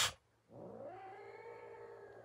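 A pet cat growls in a low, drawn-out, rising tone close by, following a short sharp burst at the start, with no speech.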